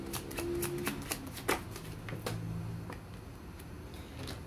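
Tarot cards being shuffled during a reading, a continuous papery riffling and flicking with sharp snaps scattered through it, steady and fairly close, with no voice over it.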